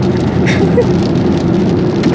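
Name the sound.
rain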